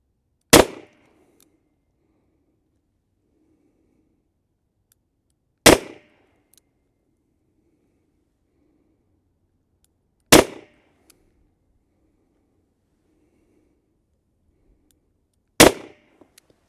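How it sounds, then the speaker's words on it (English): Four sharp, loud revolver shots from a Model 65 firing .38 Special wadcutter rounds outdoors, evenly spaced about five seconds apart, each a single crack with a short decay and quiet gaps between. "Man, 38 Special, so fun to shoot."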